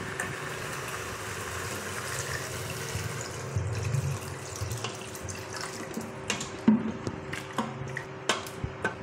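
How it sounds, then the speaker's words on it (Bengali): Water is poured into a dhaba-style chicken curry with potatoes, a steady close splash and trickle that gives way to scattered drips and clinks of cookware. "এবারে জল দেবো,"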